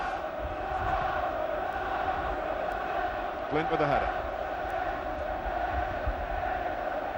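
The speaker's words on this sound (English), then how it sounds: "Crowd trying to play their part to get England off to a good start in the second half." Football stadium crowd at England versus Holland, a broad continuous roar and chanting of supporters filling the background under a commentator's voice.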